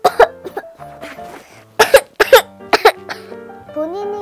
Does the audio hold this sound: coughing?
yes